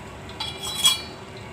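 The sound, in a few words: whisking cream (malai) in a bowl with a spoon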